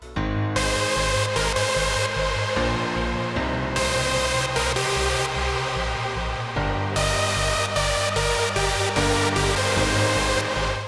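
Loud layered hardstyle synth leads, a top lead and a support lead, playing a melody over sustained chords, with a pounding kick pattern underneath and brief breaks between phrases.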